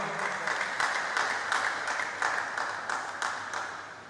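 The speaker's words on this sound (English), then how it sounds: "let's give Mr. Omotosho a round of applause" Audience members at a pest control association panel session applaud a panel speaker, a moderate, fairly even clapping heard from a little distance with a few sharper individual claps standing out.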